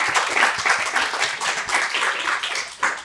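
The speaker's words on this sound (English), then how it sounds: "So please give them a round of applause as well" An audience at a business owners' association president's speech applauds the board, with dense, steady clapping close by throughout.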